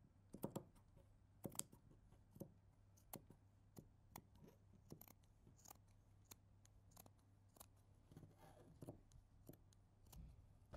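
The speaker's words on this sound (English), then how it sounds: "I'll cut a piece of lace to attach it to the dress." Scissors cutting a piece of lace for an evening dress, heard as crisp, close snips in irregular bursts against a very quiet, low hum.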